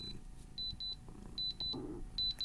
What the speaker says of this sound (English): Little beeping sound.